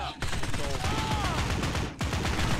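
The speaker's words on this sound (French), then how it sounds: "le fusil d'assaut," Rapid assault rifle fire in the video game Postal Redux, a dense, continuous burst of shots with a brief gap near the two-second mark before the firing resumes, loud and close.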